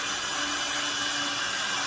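A steady, high-pitched power-tool whine runs unbroken, a drill grinding continuously into dense material at close range.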